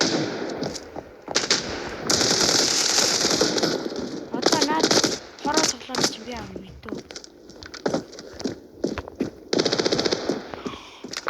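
Rapid pistol gunfire in the shooter game Standoff 2, with bursts of quick cracking shots and brief pauses between them, loud in the foreground while a voice talks at times.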